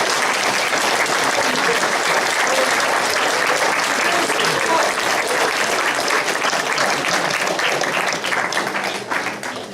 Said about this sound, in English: Y'all want to clap?